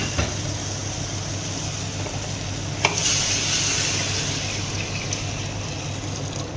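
Lamb kabsa stirred in a pot over the heat, a steady sizzling, scraping churn with one brief knock partway through, heard close and without any talking.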